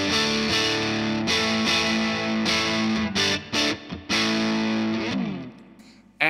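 An electric guitar played through a TC Electronic Dark Matter distortion pedal rings out in thick, saturated chords, with several short pauses and choppy stops before a final sliding strum fades out.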